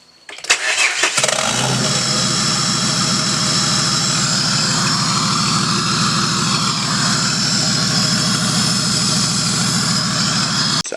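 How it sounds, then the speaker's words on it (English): A car engine, just started on a workshop build, settles into a steady idle after a brief cranking burst. The loud, close rumble runs evenly throughout with a fast, regular pulsing beat and no one speaking. "Just let it idle for a bit"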